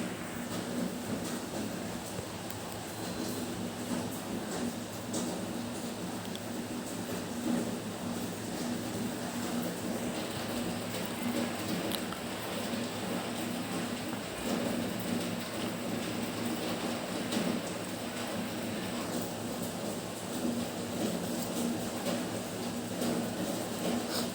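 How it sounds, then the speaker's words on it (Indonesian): Steady rain falling outside during the Indonesian rainy season, a constant even hiss with no break, moderately distant and alone without talk. "Di luar lagi hujan ya guys ya."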